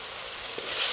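Tomatoes sauté in oil for a minnal keerai dish, a short, soft, continuous sizzle that swells slightly toward the end, with no voices.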